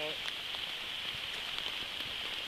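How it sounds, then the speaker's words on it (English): Rain falls steadily on a forest campsite in the Allegheny Forest, a soft, continuous patter with scattered distinct drops, faint and even throughout. "I don't know about standing out in the rain."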